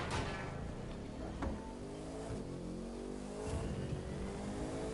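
A Bugatti-like supercar in a PS4 racing video game revs steadily and loudly, the engine note rising and shifting with sharp gear-change bursts across the clip.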